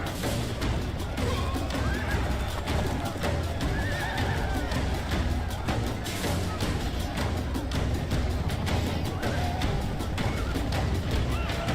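Horses neighing among light cavalry in a Total War Medieval 2 battle, with whinnies rising over a dense, loud roar of hooves, clashing and battle noise, and a voice heard briefly.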